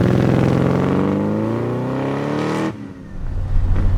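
LS-powered Chevy Bel Air resto-mod driving, its engine droning loud and steady as it climbs through the revs, then easing off abruptly before rising again, heard close with no voices.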